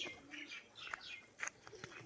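A male crested pigeon makes faint, brief chirping calls with soft wing flutters, close by in a quiet setting.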